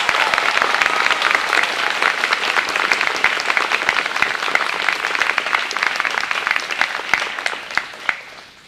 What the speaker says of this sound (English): Let's hear some applause for these poems.